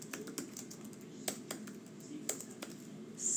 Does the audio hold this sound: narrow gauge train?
no